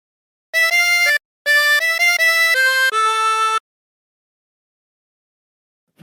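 A phrase of the sea shanty Wellerman is played on a harmonica without bends, about a dozen clean, sustained breathed notes in two quick bursts, clear and close, followed by silence.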